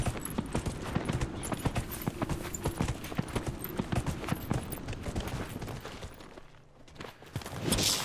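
Horse hooves clip-clopping in a video game as the rider travels toward a cavern, a quick steady run of close hoofbeats that slows and fades near the end before louder noise returns.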